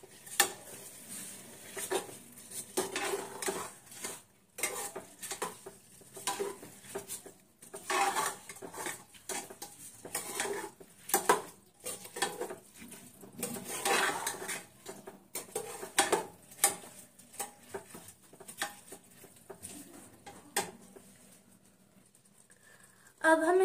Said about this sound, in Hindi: अब हम इसे मिक्स कर देंगे।